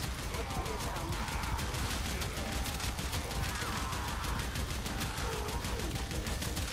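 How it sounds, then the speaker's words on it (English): A Kohm shotgun in the sci-fi shooter Warframe fires without a break, a dense, loud, unbroken stream of rapid blasts that holds the same intensity from start to finish. "You don't ever have to stop firing."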